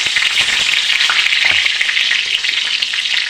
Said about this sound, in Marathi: कढीपत्ता घालत आहे